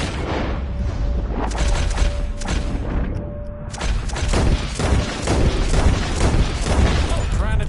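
Rapid gunfire and booming shots from a PS4 shooting game duel, dense bursts of loud cracks and thumps overlapping throughout, close and sustained.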